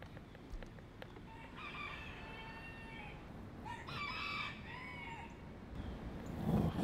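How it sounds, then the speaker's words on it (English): A rooster crows twice outdoors, two drawn-out crowing calls a couple of seconds apart, moderately distant over a quiet background, with a brief rustle at the end. "is that a rooster?"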